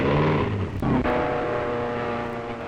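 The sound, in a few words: racing car engines at Indianapolis speedway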